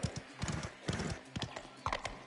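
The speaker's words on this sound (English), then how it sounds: "Press R1 to spur on your horse. This speeds up your horse." Horse hooves clip-clop at a gallop in the video game Mafia: The Old Country, a quick uneven run of close, sharp strikes, with a brief whinny near the end.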